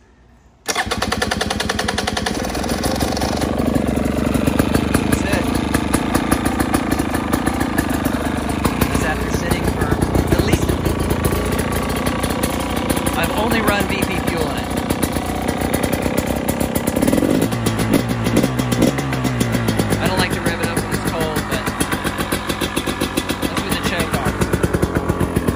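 A 2017 KTM dirt bike engine starts abruptly after a brief silence, then idles with a loud, rapid, steady two-stroke-like popping close by, with brief throttle changes later on.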